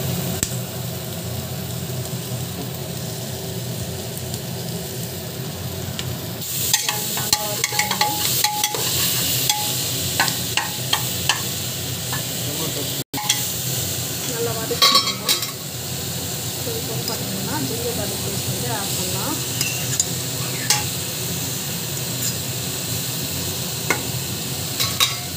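Vegetables with tomato and salt sautéed in a pan for a jackfruit seed mixed vegetable biryani, heard as a steady close sizzle with intermittent scraping, clinks and taps of a spoon stirring, and a faint voice now and then.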